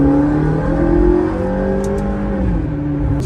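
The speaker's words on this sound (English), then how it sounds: "hopefully the audio is picking up some of the engine noises just like this" A car engine revs and drones loudly and continuously, its pitch shifting as it accelerates, with no voices.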